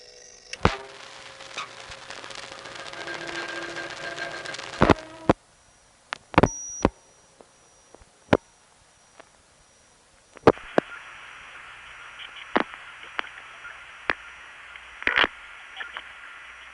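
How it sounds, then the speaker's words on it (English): Irregular mechanical clicks and clunks from a crossbar telephone switch, with sharp snaps over humming line noise and brief tones between them. "you get a series of noises that sound like a bunch of doors opening and closing"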